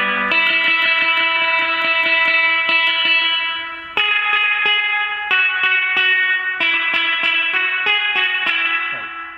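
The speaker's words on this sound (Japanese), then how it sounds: "リバーブ音がすごく大きくなりますね。" Electric guitar played through a BOSS FRV-1 Fender-style spring reverb pedal with the mix knob turned far up. Chords and notes wash into a thick, loud, continuous reverb tail with no talking.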